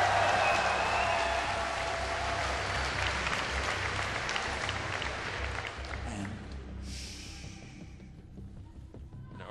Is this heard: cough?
no